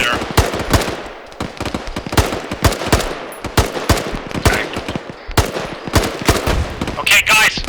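Gunfire in the ArmA 3 video game during a jungle firefight, with rapid bursts of rifle and machine-gun shots cracking in an irregular rhythm, some near and loud, others more distant, with a voice briefly audible amid the shooting.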